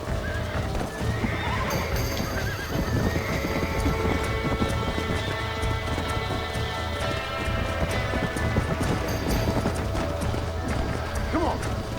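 A horse in Red Dead Redemption gallops with continuous rapid hoofbeats and repeated loud neighs over dense game ambience, with some voices.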